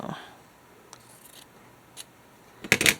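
Scissors snip through paper scraps for a junk journal, a quiet faint cut early on and a louder crisp burst of snipping near the end in an otherwise quiet room.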